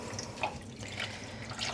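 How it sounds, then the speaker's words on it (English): Water squeezed from freshly hand-dyed yarn drips and trickles into a rinsing bowl, soft scattered drips and splashes over a faint running-water background, close and quiet. "squishing out some of the water"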